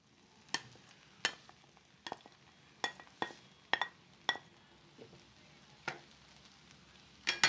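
Prawns frying in a pan for seafood fried noodles (bihon), a faint steady sizzle broken by sharp, irregular clinks and scrapes of a utensil against the pan, close by.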